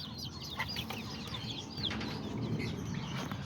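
Small roosters and hens in a cage at close range, a busy mix of clucks and short chirping calls over a steady background hum, with no talking.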